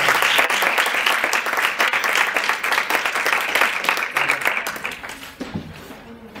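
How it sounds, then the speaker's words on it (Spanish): An audience at an event on organising concerts breaks into applause to welcome speaker Daniel Simón, dense sustained clapping from a large crowd that fades toward the end. "Recibamos con un gran aplauso a Daniel Simón."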